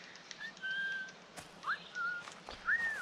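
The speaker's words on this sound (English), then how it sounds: "Whistling." Whistling in the video game Assassin's Creed IV Black Flag, a few short melodic whistled notes with rising and falling slides, moderately loud over a quiet game background.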